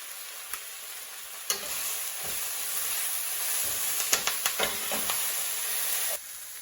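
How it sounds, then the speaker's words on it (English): Onions sautéing with turmeric powder and hing in a pan, a steady bright sizzle throughout with a few sharp pops and stirring scrapes, ending abruptly near the close. "saute it until mildly, when the onion turns mildly golden brown"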